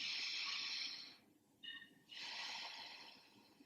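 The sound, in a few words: deep breath in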